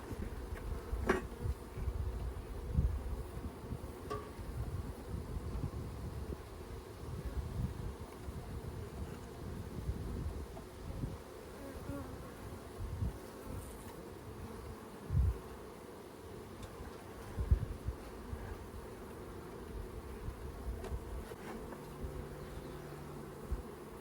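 Honeybees swarm and buzz around a hive where the colony is building comb, a steady low droning hum that runs throughout with scattered louder passes from individual bees close to the microphone.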